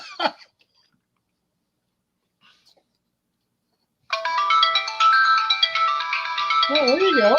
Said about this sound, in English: Can you call my phone? This will be my ring.